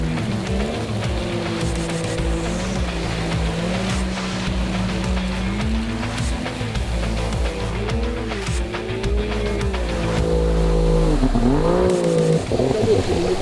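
SOLAR-470 jet tunnel boat crossing a log in a shallow channel: the jet engine drones steadily and surges in pitch, with a louder rise near the end and water splashing around it.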